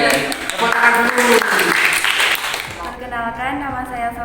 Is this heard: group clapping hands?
yes